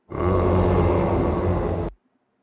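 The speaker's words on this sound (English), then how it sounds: "We're going to do that growl. Listen to this." A deep monster growl made as a horror video game sound effect, one sustained rumbling roar lasting nearly two seconds, loud and close, then cutting off abruptly into silence.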